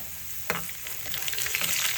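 Mustard seeds and small onions in hot oil sizzle and crackle with a few sharp pops, growing busier over two seconds, close by and without voices.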